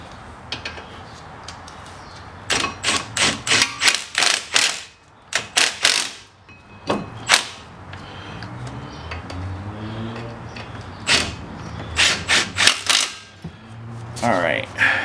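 Metallic ratcheting clicks and clinks from a wrench snugging down front brake caliper bolts on a 2003 Chrysler Sebring Coupe, in quick irregular bursts close to the listener, with faint background voice at times.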